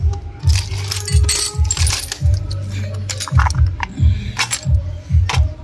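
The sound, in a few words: original lawn mower fuel cap being handled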